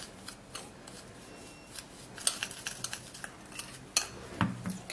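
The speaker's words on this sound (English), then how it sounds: "you stir it all up. Mix it, let it go into paste form." Teeth whitening mixture stirred into a paste in a small container: light, close scraping and clinking strokes in an irregular rhythm, quiet, with no voices.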